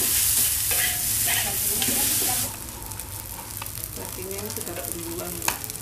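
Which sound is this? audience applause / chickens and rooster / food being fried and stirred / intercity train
food being fried and stirred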